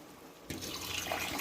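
Water poured into a pot of chicken biryani rice, a soft background hush abruptly turning into a steady close gush of running, splashing water that continues to the end.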